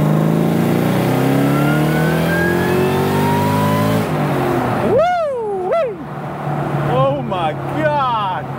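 Supercharged 2003 Ford Cobra pulling hard in second gear: a loud, close engine roar climbs steadily in pitch, breaks briefly, then returns with sharp, sweeping whines rising and falling.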